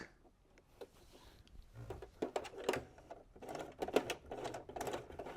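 Domestic sewing machine stitching directly along a raw fabric edge, producing bursts of rapid mechanical clatter that start, pause and resume, close and moderately loud with no talk.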